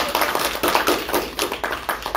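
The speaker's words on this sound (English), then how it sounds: "First, I gotta clap." Close, loud hand clapping after a poetry reading at a library author talk, a quick uneven run of claps from a small group lasting a couple of seconds.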